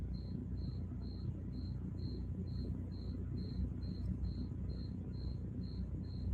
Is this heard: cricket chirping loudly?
yes